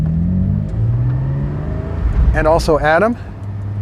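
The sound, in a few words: Porsche 718 Spyder engine revving while driving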